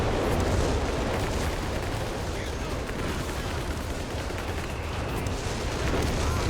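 A long-range artillery barrage pounds in a Company of Heroes 3 2v2 match, dense continuous rumbling explosions and gunfire filling the whole stretch, loud and unbroken, with a caster's voice partly buried beneath.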